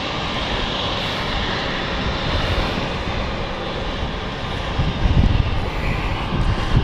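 Aircraft engines spooling up for departure at London City Airport, a steady broadband roar that grows louder with rumbling surges near the end, without speech.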